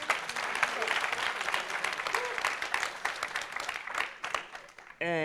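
Sustained audience clapping for presenters at a tuberculosis session, steady and full throughout before cutting off abruptly at the end.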